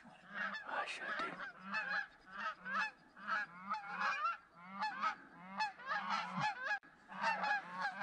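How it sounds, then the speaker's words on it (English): Waterfowl on a lake during a duck hunt call out in a noisy run of repeated honking, loud and close, in rhythmic bursts of overlapping calls with no talk. "I kind of want that duck."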